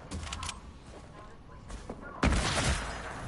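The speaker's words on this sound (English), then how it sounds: "Someone else is shooting at you" Gunfire in an online shooter match, bursts of shots crackling through a busy mix before a loud, dense volley erupts partway through and keeps going.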